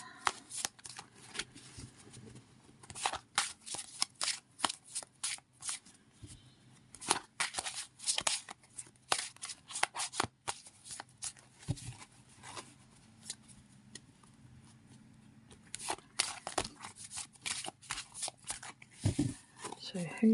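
Tarot cards are shuffled close by in repeated quick riffling bursts, some soft and some crisp, while a person speaks over them.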